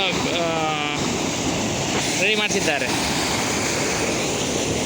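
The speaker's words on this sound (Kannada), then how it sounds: "ಈ ರೀತಿಯಾಗಿ ನೀರು ಬರ್ತಾಯಿದೆ" Water from an opened canal valve rushes and roars steadily nearby, a continuous loud gush flowing to Gandabommanahalli lake in Kudligi taluk, while someone talks over it.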